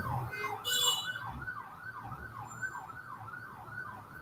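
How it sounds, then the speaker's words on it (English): An ambulance siren wails steadily in repeating rising-and-falling sweeps through stalled traffic, with a brief louder burst of another horn near the start and a low engine rumble underneath. "There is an ambulance, but the cars don't move."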